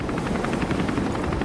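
A helicopter in the Resident Evil 3 Remake video game thrums with a fast rhythmic rotor beat, loud and constant throughout the short stretch.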